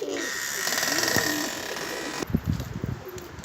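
Baska pigeons coo softly over a steady background hum, then the hum drops away and the low, throaty cooing continues alone.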